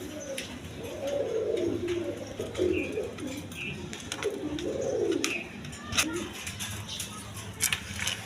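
Pigeons at a pigeon farm coo repeatedly in low rolling phrases, nearby and moderately loud, with soft shuffling, scattered sharp clicks and a person talking at times.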